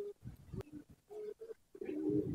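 A racing pigeon coos in a loft, a few soft, low, throaty phrases in uneven bursts with short pauses, close and fairly quiet, no one speaking.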